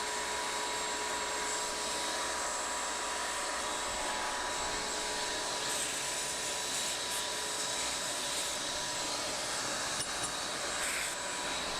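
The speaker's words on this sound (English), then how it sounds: "we're going to plug the shop vac in, make a bunch of noise" Shop vac roaring steadily while sucking up wood stove ash, a constant loud whine and rush at close range that holds unchanged throughout, nobody speaking.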